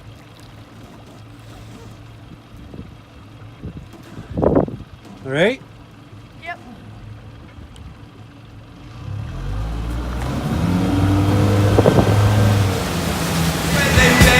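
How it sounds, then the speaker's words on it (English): Motorboat engine running on open water while towing a wakefoil rider, a low steady hum that swells louder and rougher in the second half, with short spoken calls and water noise near the start. "The engine going."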